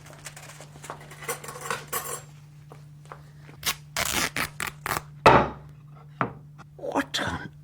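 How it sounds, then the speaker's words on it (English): Scissors cutting at close range: a series of short, sharp snips and scraping bursts, uneven in rhythm, over a steady low hum. "Get me a pair of scissors or a kitchen knife."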